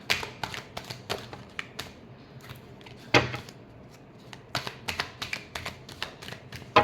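Tarot cards are shuffled by hand in crisp, irregular bursts of flicking and tapping, close and fairly quiet, with short pauses between clusters of snaps and no voice over them.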